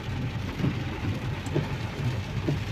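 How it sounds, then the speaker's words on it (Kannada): Rain falls steadily on a foggy road near a river-rafting resort, a soft, even wash of patter with a few faint thuds, fairly quiet and with no talking. "ಮಳೆ ಮಳೆ ಬರ್ತಾ ಇದೆ"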